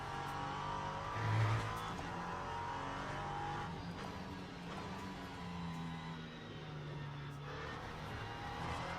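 A race car engine in Le Mans Ultimate drones at steady mid volume, with a brief lift off the throttle and then a pull back on the power. The tone rises and falls slightly as the car carries speed through a corner.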